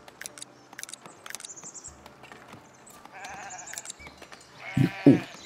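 Sheep bleat in the medieval city-building game Foundation, a couple of short bleats near the end over light ambient game sounds and scattered clicks.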